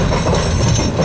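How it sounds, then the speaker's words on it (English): A US Sugar Corp freight train hauling cane cars rumbles at the Clewiston facility, a loud, close, continuous roll of wheels on track with no voices. "Our first train is now only about a mile away as it eases into the Clewiston facility"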